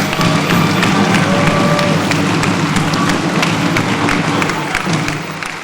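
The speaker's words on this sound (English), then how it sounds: "please give everyone another round of applause as they go off the stage" An audience at a school's annual stage production applauds as performers leave the stage, a steady, dense wash of clapping and crowd noise that fills the room and tapers slightly at the end.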